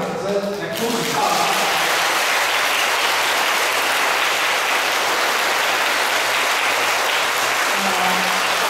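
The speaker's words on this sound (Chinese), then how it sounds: "咱呢，再一次以热烈的掌声来恭喜他。" An audience at a Buddhist lecture breaks into warm, sustained applause right after a speaking voice stops, a dense, even roar of many hands clapping that holds strongly for several seconds while faint talk resumes near the end.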